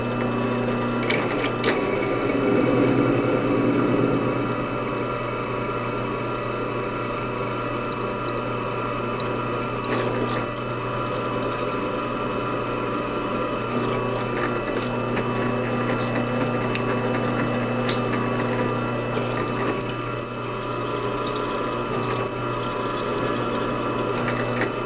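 A drill with a cobalt bit whirs steadily as it bores through metal for a sailboat backstay tensioner, a continuous mechanical whine with a few brief surges, heard close and without speech.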